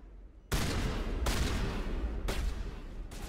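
Shotgun blasts in Mass Effect Legendary Edition, three or four loud, booming shots with sharp onsets and long rumbling tails, fired about a second apart.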